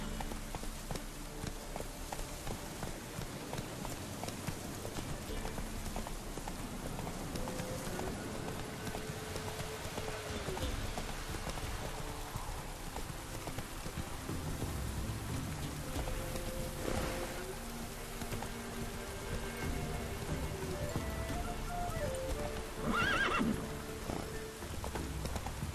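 Horse hooves galloping through rain in Witcher 3, a steady run of hoofbeats over a constant patter of rainfall, with a neigh and bursts of game music layered in throughout.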